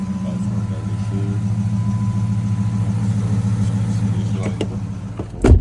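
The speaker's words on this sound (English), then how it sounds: "So shut the car back off, turn it on." A Dodge Magnum's engine hums at a steady idle close by, then a sharp, loud burst at the very end as the ignition is turned.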